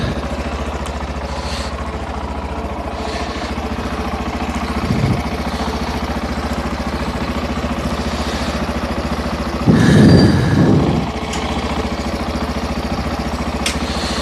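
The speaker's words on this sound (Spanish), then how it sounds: "tener paciencia mientras calienta la moto" A Zongshen motorcycle engine idles steadily while warming up after a coolant change, a low continuous hum with two brief louder bursts partway through, close by and with no talk.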